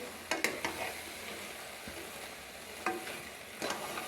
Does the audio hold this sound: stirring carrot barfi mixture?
yes